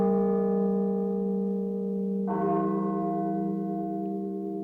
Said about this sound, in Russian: С колокольни собора Богоматери несся погребальный звон